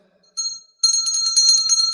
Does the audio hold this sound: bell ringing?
yes